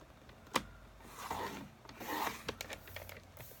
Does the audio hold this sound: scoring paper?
yes